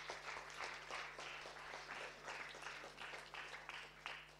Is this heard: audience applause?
yes